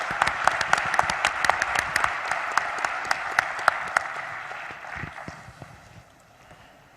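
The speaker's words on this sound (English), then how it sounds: "Please join me in a huge round of applause for our panel." Audience applause for a panel at the B20 Summit Indonesia 2022, a dense burst of many hands clapping that fades gradually toward the end.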